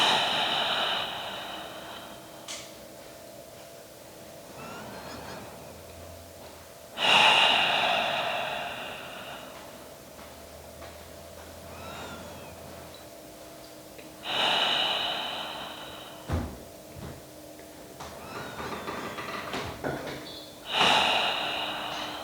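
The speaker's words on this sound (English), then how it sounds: "Holding here in this shape for 5 more breaths." Slow, deep breaths during a held yoga pose, each long inhale and exhale rising as a soft airy rush and fading, several cycles spaced a few seconds apart over a quiet background.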